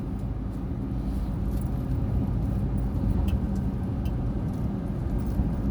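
An Isuzu 1.9 pickup truck with a newly replaced rear differential drives along a road, its engine and road noise forming a steady, continuous rumble from start to finish.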